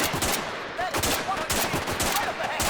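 Dense gunfire from a squad opening up on a bunched enemy group in the video game Arma 3, rapid overlapping automatic bursts and shots cracking continuously with no pause.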